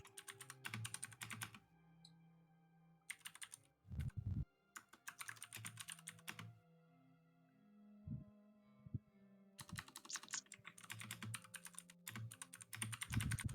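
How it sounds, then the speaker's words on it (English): Typing on a computer keyboard, close and fairly quiet, in irregular bursts of rapid key clicks separated by pauses, with a low hum underneath. "Oh, you are typing it out, right?"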